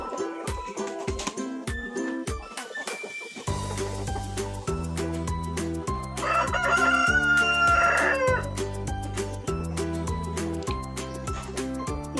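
Rhode Island Red chickens on a free-range farm, with a rooster crowing clearly midway through, heard over steady background music with a beat.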